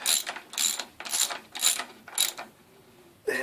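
A ratchet wrench tightens a bolt on a motorcycle fork, clicking in about five quick loud bursts of pawl rattle, then a short pause and a final burst, close up with no talking.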